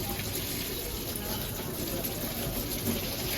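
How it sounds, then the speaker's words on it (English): A mop head is rinsed under running water from a tap at a gym, a steady close rush of flowing water without pause. "But just in case they didn't, you're gonna rinse it out like I'm doing right here."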